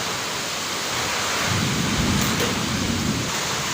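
Heavy rain pours steadily in the Jajpur area while thunder rumbles low beneath it, building briefly in the middle; a dense, continuous storm soundscape.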